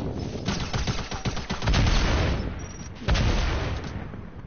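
Rapid bursts of video game gunfire crackle and boom in dense volleys, with heavy impacts around the middle and again near the end, loud and close with no talk over them.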